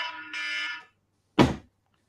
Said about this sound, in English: It was just an alarm for Zach.